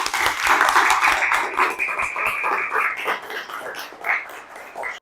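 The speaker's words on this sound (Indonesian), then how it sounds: "Coba berikan aplaus tepuk tangan yang meriah kepada Nanda yang menanggapi." Classroom applause from a group of students during a teaching session, a burst of dense hand clapping that thins toward the end, fairly close.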